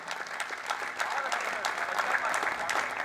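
Audience applause at an all-India kavi sammelan and mushaira at IIT Jodhpur, with a steady, dense wash of clapping from a large hall crowd lasting a few seconds.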